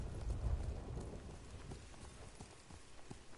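Horse hooves clip-clopping during a peaceful ride in the game Ghost of Tsushima, a steady rhythmic patter of hoofbeats over soft ground, moderately close and continuous with no talk.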